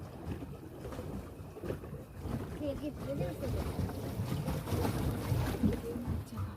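Boat ride on a lake, water washing and churning against the hull with wind buffeting the microphone, moderately loud and steady, with faint voices mixed in.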